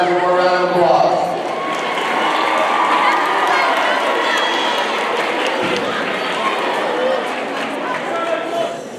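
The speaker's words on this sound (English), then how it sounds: "Give all these guys one more round of applause." Crowd applause and cheering fill the stands at a high school football game in Idalou, a loud, steady roar of clapping and shouting that carries on throughout with voices mixed in.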